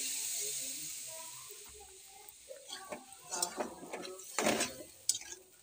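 Water splashed into a pan of frying kochur loti (taro stolons) sets off a steady, close hiss with scattered sizzling crackles and bursts of bubbling.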